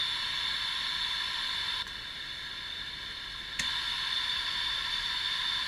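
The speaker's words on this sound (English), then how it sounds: "that's in the white noise feature" Steady white-noise hiss played from a smartphone app's white noise feature, broadband and constant, with two short dips and clicks where the level shifts, and no voices.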